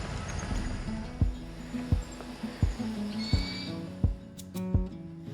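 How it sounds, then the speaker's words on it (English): A Buffy fish owl calls at night on a forested island trail, sending out a series of short, fairly faint harsh screeches at irregular intervals over a low steady background hum. "we heard the screech of an owl"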